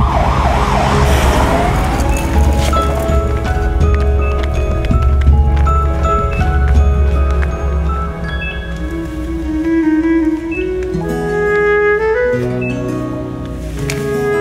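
Loud ambulance siren wailing continuously near at hand, its pitch sweeping up and down over a low rumbling background throughout.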